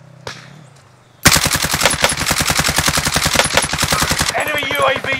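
A machine gun in Call of Duty Warzone opens up after a brief quiet moment, firing one loud, rapid, sustained burst of evenly spaced shots for about three seconds before tailing off into echoing reports.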